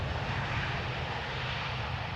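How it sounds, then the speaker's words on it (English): A Boeing 737-800 lands on the Polderbaan runway at Amsterdam Schiphol, heard as a steady, fairly distant engine roar with deep low rumble that holds evenly throughout, with no voices. "737-800s touching down in a fashion not unlike KLM, keeping up the speed, staying on the runway"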